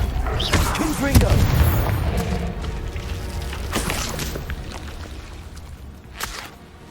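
A Confringo fire spell in Hogwarts Legacy bursts with a deep booming blast near the start. A rumbling, crackling wash of noise follows and slowly fades, with a few fainter pops later on.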